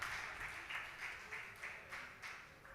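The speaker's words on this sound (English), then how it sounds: "Give them a round round of applause." Audience at a Church of God Sabbath evening fellowship service applauds, with steady, fairly loud clapping that pulses in an even rhythm from start to finish, with no talking over it.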